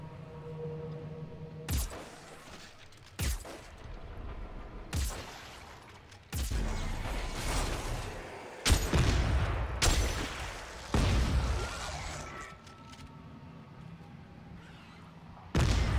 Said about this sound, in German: wenn du so mit Schrotflinte da hinten rumschießt